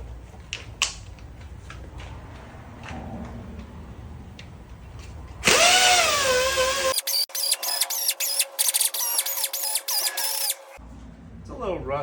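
A power drill fitted with a Steelman Pro hub polisher spins up to clean a 2019-2023 Chevy Silverado wheel hub. A loud whine comes with rising pitch, then grinds on in short bursts, with quieter workshop handling before and after.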